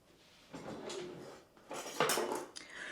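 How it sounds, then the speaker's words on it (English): A knife slices through green beans on a cutting board, giving a few scraping, clacking strokes against the board, heard close and fairly quiet with no talking. "you can just use a knife and cut them"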